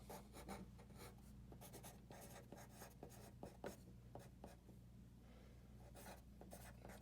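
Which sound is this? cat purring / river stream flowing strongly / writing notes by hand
writing notes by hand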